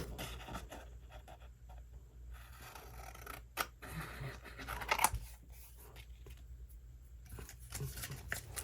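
Scissors snip around a paper figure of Dorothy in a mixed media craft session, soft intermittent cuts and rustling paper at close range, quiet, with no talk.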